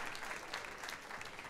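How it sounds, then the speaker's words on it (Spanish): Audience applause at a Colombian stand-up comedy show, a steady dense clapping from a crowd throughout, fairly faint and distant with no talk over it. "gracias por aplausos"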